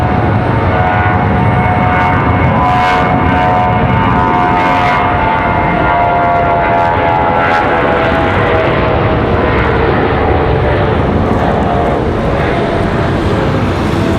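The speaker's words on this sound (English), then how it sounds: "Nice loud 737 departure." A Boeing 737 departs from Raleigh Durham International Airport, its jet engines producing a loud, steady, broadband roar that fills the whole stretch without letting up.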